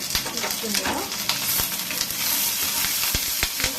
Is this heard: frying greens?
yes